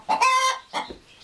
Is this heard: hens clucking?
yes